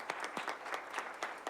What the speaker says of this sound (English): join us again in giving those employees and that school number 19 a round of applause